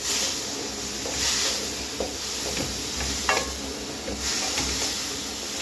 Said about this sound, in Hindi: जी हल्का से इसको फ्राई करना, तकरीबन हमें 4-5 मिनट इसको फ्राई करना